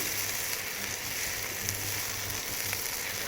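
Ginger garlic paste frying with onion in hot oil gives a steady, close sizzle that runs unbroken, with faint stirring scrapes here and there and no voices.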